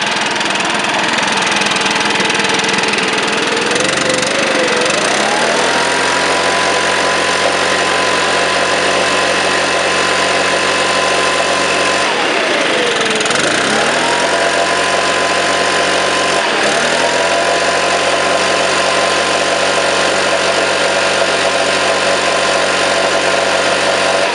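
A Stihl BR 500 backpack blower running loud and close, its steady engine drone rising and falling as the throttle is blipped a couple of times and then held high.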